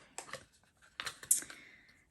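A small makeup product package being unwrapped: a few sparse, close crinkles and crisp clicks of packaging, with a sharper rustle near the end, in a quiet room with no talking.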